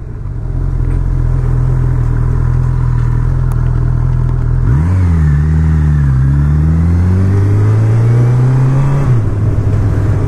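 A 2019 Honda CB1000R Plus motorcycle being ridden: a loud, steady engine drone that rises and falls as the throttle is opened and eased, running continuously with wind noise and no talking.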